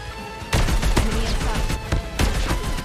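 Sustained automatic gunfire in the mobile shooter Call of Duty Mobile during a 1v1 match, loud and close, starting abruptly and rattling in rapid bursts with a few sharper peaks.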